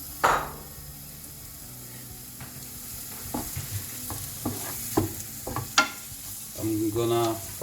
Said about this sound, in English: First I'm gonna fry onion.